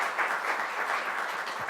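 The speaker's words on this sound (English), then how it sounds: "So please a round of applause for my beloved brother." An audience at a speaker series gives a round of applause for Major Garrett, a steady, even patter of many hands heard from across the room with no voices over it.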